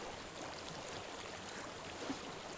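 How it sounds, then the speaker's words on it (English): Water flows steadily in the game Hellblade: Senua's Sacrifice, a faint, even rushing wash with no clear breaks and no voices. "I hear water."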